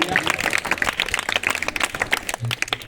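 Audience applause for a village sarpanch at a school-level children's arts, sports and knowledge festival, a steady patter of many hands clapping throughout, with some voices mixed in.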